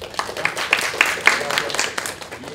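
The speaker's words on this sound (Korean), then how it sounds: "박수 한번" Audience applause at an academic political science conference in Korea, a dense spread of many hands clapping that rises and falls over a few seconds, filling the room on its own.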